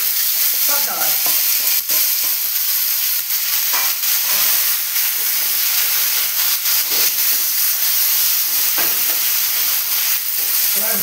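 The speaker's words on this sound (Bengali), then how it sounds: "এবার ভালো করে কষে নেব।" Marinated chicken coated in pepper, salt, vinegar and ginger-garlic paste fries in a hot pan for a Bengali chicken curry, a steady loud sizzle and hiss broken by repeated scraping stirs throughout, with no talking.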